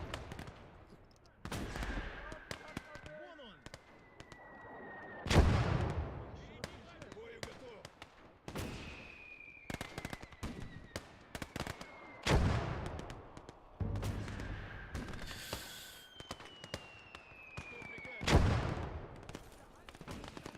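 Gunfire from a machine gunner in a Stalingrad battle video game: repeated bursts and single sharp shots spread across the scene, some close and loud, with whistling sounds between them and a voice talking throughout.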